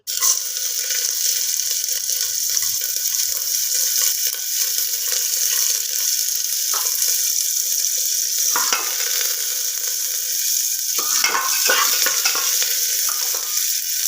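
A small amount of chopped onion fries in hot oil with a strong, continuous sizzle that holds up close throughout, with a few clatters of stirring midway and near the end.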